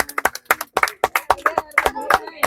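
A live game-show audience applauds loudly for the next contestant in a balloon-popping contest, with rapid sharp claps in uneven bursts over about two seconds, close and mixed with a little speech.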